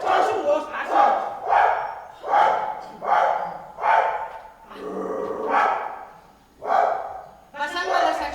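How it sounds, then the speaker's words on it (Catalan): A dog barking on a theatre stage during a play, a loud, close series of about eight regular barks with a crowd-like, shouting quality to each one. "Això és un gos"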